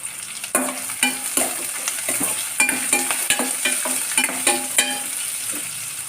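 Onions and curry leaves sauté in a pan for mint rice, a steady sizzle broken by repeated scraping stirs of a spoon, close and alone with no talk.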